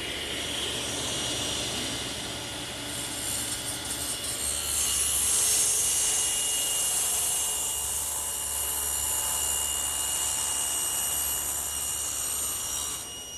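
A saw cuts through a wooden board while building a bookcase, giving a steady, continuous rasping drone that runs the whole stretch at an even, fairly loud level.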